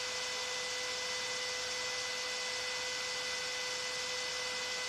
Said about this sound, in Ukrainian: Вентилятор працює нормально, я другий поставив сюди.